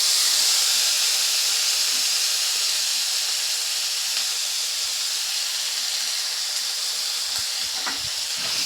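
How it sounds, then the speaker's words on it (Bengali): Sliced onions frying in leftover oil from frying ray fish, a steady loud sizzle and hiss throughout with a few faint stirring knocks near the end. "মাছ ভাজার যে তেলটা ছিল এই তেলের মধ্যে কিন্তু সব পেঁয়াজগুলো আমি দিয়ে দিলাম"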